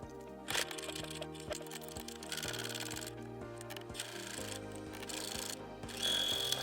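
A sewing machine stitches together the two halves of a quilted truck hat, with a steady mechanical whir and rapid needle ticking. The bulky center seam is sewn slowly, and the motor starts and stops in short bursts.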